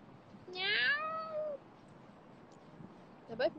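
A cat gives one clear, drawn-out meow up close, followed by a short, fainter second call a few seconds later in an otherwise quiet room.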